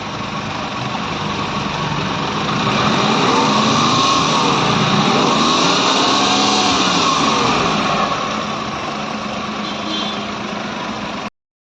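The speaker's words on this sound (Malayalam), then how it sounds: "ഇതൊക്കെ ഫിക്സ് ചെയ്ത് കഴിഞ്ഞ് കാർ ഒന്ന് സ്റ്റാർട്ട് ചെയ്യാം." A Maruti MPFI car with an overheating problem runs after its coolant work, the engine humming steadily at idle with a rise in revs midway, close and loud, with no talk.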